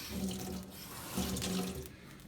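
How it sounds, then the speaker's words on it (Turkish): Poppy seeds being rinsed in a kitchen sink under running tap water, a steady splashing flow that swells and eases, with no talking. "Göstermek için yıkadık."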